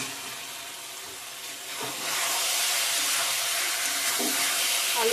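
Fried potatoes added to doi chicken in a pan, a steady loud hiss of sizzling that grows louder partway through and then holds.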